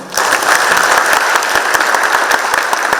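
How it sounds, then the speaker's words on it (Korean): An audience at a corporate co-prosperity declaration ceremony between POSCO and its partner companies claps loudly, a dense, even round of applause that starts sharply and holds steady with no talking. "그럼 박수 한번 치십시오."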